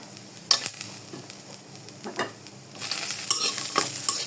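Cashew nuts frying in oil in a pan for malai chicken, a soft steady sizzle under occasional stirring scrapes and clinks of a spoon, close and fairly quiet, rising a little toward the end.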